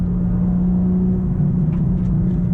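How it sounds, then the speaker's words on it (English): Inside a moving BMW M4 CSL, a steady, loud, low rumble of road and tire noise, with a faint whir of wind, continues without speech. "Now you can hear a lot of road noise, right? I can hear a lot of tire noise."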